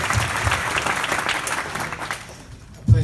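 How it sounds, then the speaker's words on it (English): Crowd applauds a speaker at a startup business summit in The Hague, dense steady clapping filling the room for a few seconds before tapering off, with a sharp bump near the end. "Please give a round of applause for Sean."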